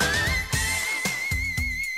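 A singer sings in the whistle register, a thin, very high sustained tone that slides up slightly and holds over a loud accompaniment with rhythmic bass hits.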